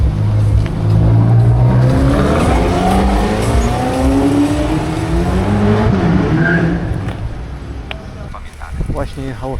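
A black Ferrari engine revs loudly on a street in Naples, its pitch rising and falling in throaty sweeps up close, with voices faintly underneath.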